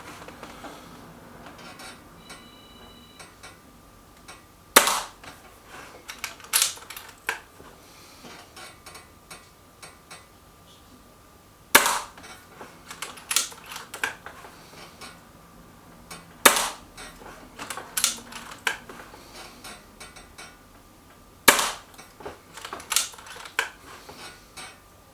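A Stoeger XM1 Scout air rifle fires pellets in sharp cracks spaced several seconds apart, each followed by softer clicks and mechanical handling noises of cocking and loading, close up with no talking.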